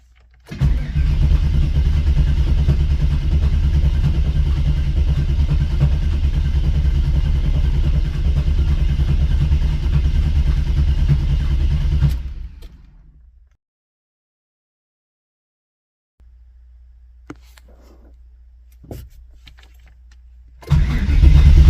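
A Chevrolet LT1 V8 held on the starter, a loud, steady mechanical cranking drone close up that cuts off abruptly into silence, followed by faint clicks and a low hum before cranking resumes.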